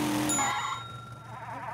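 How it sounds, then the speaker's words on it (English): A bus bell in a cartoon gives one bright ding that rings briefly and fades under a low engine rumble, with no voices. "who's dinging the bell?"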